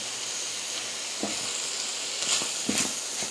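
Cauliflower paella with shrimp sizzling in a pan on a burner, a steady close frying hiss with a few soft clicks and stirring sounds, no talking.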